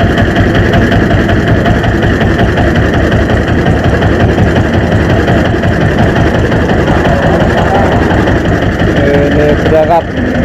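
A small boat's engine chugs steadily at a low, throbbing idle as the boat pulls away slowly against a fast river current, loud and close throughout.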